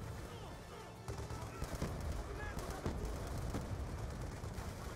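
Machine gun fire and other gunfire in Call of Duty Black Ops 2 keep up a dense, continuous battle din with repeated sharp bursts. A voice talks over the action now and then.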